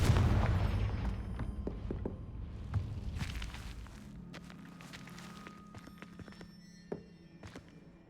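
A fire-blast spell going off in Hogwarts Legacy, a heavy boom that fades into scattered thuds and crackling impacts, with a faint rumble lingering beneath.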